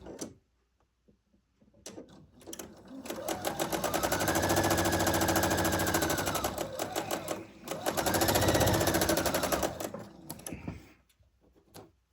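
Sewing machine stitching a quilt seam, running at a steady whirring clatter in two long bursts with a brief slowdown between, near and fairly loud, with small handling clicks at the start and end and no talk.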